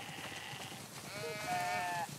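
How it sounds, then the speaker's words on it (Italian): Sheep bleating in The Last of Us Part II, several wavering calls overlapping over a faint steady background, moderately close and fairly quiet. "Sono tantissime pecore."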